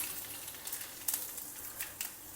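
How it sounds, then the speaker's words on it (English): Mustard seeds, urad dal and a dry red chilli fry in a spoonful of hot oil, a soft, steady sizzle broken by a few brief sharp pops and crackles. "Heat a spoonful of oil. Add mustard seeds, urad dal,"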